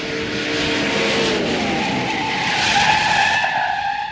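An old muscle car braking hard from 60 mph skids with a loud sustained tire squeal, sliding pitch tones shifting over several seconds beneath a broad roaring hiss, close and continuous throughout.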